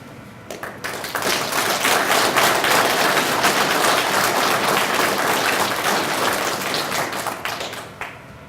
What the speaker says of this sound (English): give everyone a round of applause who's here in attendance